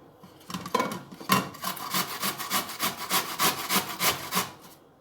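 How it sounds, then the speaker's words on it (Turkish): Raw potatoes and onions are rubbed against a grater in a quick, steady rhythm of rasping strokes, each stroke loud and close, with no talking. "patatesimi ve soğanımı rendeleyerek başlayalım"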